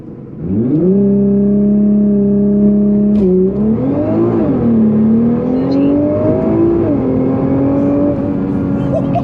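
A 600+ hp Nissan GT-R R35 launching hard from standstill to 60 mph, engine roaring loud and close with rising pitch through quick gear changes, a brief dip at each shift before climbing again.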